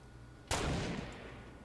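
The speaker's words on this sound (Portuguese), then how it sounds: "Opa, quem que atirou?" A single loud gunshot in Fortnite, a sudden sharp crack followed by a long decaying boom and echo, preceded by quiet ambient game sound.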